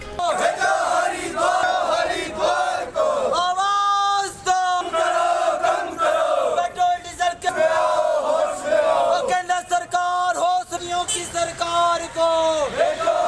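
A protest rally against rising petrol and diesel prices in Mandi, with a crowd shouting slogans in loud rhythmic bursts that rise and fall, a lead voice calling and many voices answering, close and continuous.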